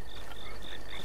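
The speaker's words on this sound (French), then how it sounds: "Il y a une autre grenouille là." A frog in The Legend of Zelda: Breath of the Wild chirps in short repeated croaks, steady and moderately close over a soft ambient bed.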